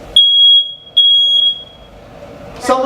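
A smoke detector alarm sounds two loud, piercing electronic beeps, a sustained tone that stops, then a second longer one, close by in a school setting, followed by a brief stir of noise at the end.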